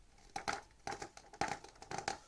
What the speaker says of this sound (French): écoutez le papier de la version